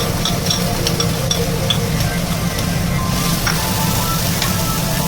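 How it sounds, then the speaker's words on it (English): About twenty grams of garlic gently frying in a teaspoon of ghee over a very low flame, a dense, continuous close sizzle with scattered small crackles throughout. "In 1 teaspoon of ghee, I'm going to slightly fry the garlic."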